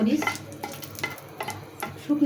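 Dried chilies crackle and sizzle in a hot pan while a utensil stirs and scrapes at intervals, close by with no talking.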